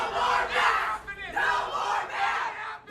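A vocal crowd protesting a district-wide school mask mandate chants and shouts in loud, rhythmic waves outside a school district meeting center, voices swelling and dipping together.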